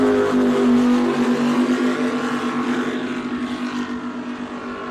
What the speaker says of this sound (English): As you can hear, Acme bouncing their way down the front straightaway there, just touching the limiter